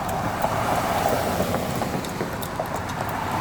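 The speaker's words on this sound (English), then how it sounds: "Put the window down so y'all can hear the traffic." Road traffic in Metairie, Louisiana, on concrete panel streets, heard through an open car window: a steady broadband rush of passing cars and tire noise mixed with wind buffeting, fairly loud and continuous, with no talking.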